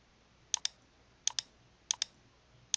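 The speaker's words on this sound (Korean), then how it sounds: "자, 지금 클릭하고 있습니다." Computer mouse clicking near the mic, four crisp double clicks spaced evenly apart over near silence.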